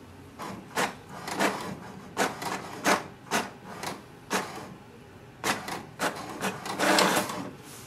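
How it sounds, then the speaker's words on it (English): An HP DeskJet 2700e inkjet printer runs a page through, giving a close series of sharp mechanical bursts and shuttling rasps at irregular intervals, with a denser stretch of grinding movement near the end and no talking. "wait for the printer to print a page."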